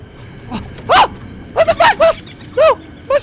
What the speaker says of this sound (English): Is that dogs I hear?